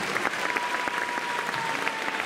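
Steady applause from an audience at a Miss Picardie 2020 pageant, a dense continuous patter of clapping hands that holds loud and even throughout, with crowd noise mixed in.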